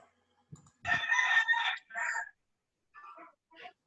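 A rooster crows once loudly and close, a long drawn-out call followed by a few shorter, fainter clucks in an otherwise quiet space.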